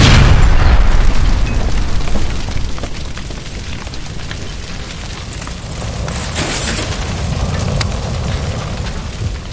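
A loud gas line blast inside an electroplating building in L.A. Noire, a big boom that rolls into a long roaring, crackling aftermath of fire and debris slowly settling, with no voices over it.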